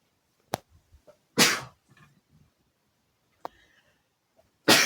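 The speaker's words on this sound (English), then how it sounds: "So needed to sneeze there," Two sharp sneezes, loud and close, stand out from near silence, each preceded by a quick intake, with faint clicks and small sounds in between and no speech.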